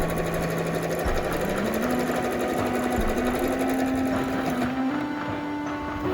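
A sewing machine stitches a pleated fabric face mask, its needle running in a fast continuous whir at close range, the motor pitch stepping up slightly as the seam goes on.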